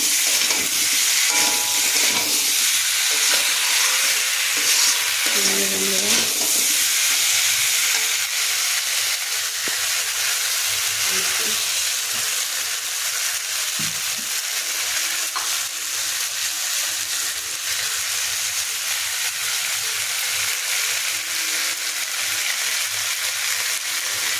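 Pointed gourd, potato and onion fry in a pan with a constant loud sizzling hiss, interrupted now and then by a few clinks and scrapes of a spatula, and no one speaking.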